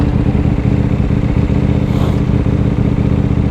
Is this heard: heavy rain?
no